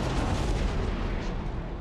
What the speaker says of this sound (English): And those guns are firing at them.